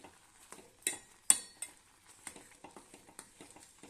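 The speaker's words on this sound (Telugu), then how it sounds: "కొంచెం దగ్గరికి అయ్యే వరకు కలుపుతూ సిమ్లో పెట్టి ఉడికించుకోవాలి" Wheat halwa being stirred in a pan over a low flame: scattered soft scraping and clinking strokes of a spoon against the pan, fairly quiet and close, with no voices.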